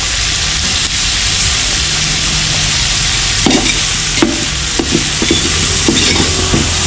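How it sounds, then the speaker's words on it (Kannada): Chakna sizzles steadily in a pan with pepper powder, a continuous broadband fry hiss punctuated by a few scraping stir strokes near its end, with no talking. "ಪೆಪ್ಪರ್ ಪೌಡರ್ ಪೆಪ್ಪರ್ ಇಷ್ಟೇ ನಿಮಗೆ ಇಷ್ಟಿರುತ್ತೆ ಇನ್ನು ಚೆನ್ನಾಗಿ ಫ್ರೈ ಮಾಡ್ಕೊಳ್ಳೋದು ಅಷ್ಟೇ"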